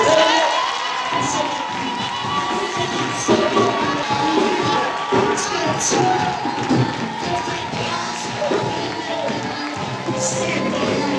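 Church congregation at a prophetic night vigil loudly cheering and acclaiming, a dense continuous crowd roar with whoops and raised voices over faint background music throughout.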